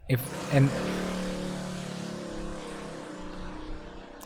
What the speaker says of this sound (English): that motorbike didn't have to be that loud.